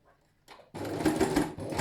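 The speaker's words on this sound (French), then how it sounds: "Et je couds là sur le zigzag, tout simplement." A sewing machine running a straight stitch over a zigzag seam on a fabric face mask: after a couple of soft clicks, the motor starts and hums steadily with a fast, even needle rhythm, close and alone.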